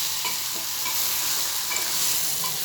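A potato and tomato curry frying in oil, stirred in the pan, with a dense, continuous sizzle and soft scraping of the spoon, close and steady throughout.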